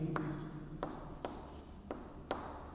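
Marker or chalk strokes on a board while working a class 12 calculus chain-rule problem: several short, distinct scratchy taps and strokes spaced about half a second apart, close up, with no voices.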